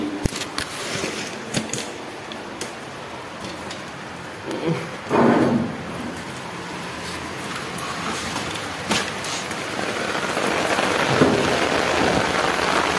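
Heavy rain pours steadily outdoors in a dense, continuous hiss on surfaces, with occasional louder splashes and thumps nearby, and no talking over it.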